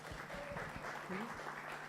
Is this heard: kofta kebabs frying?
no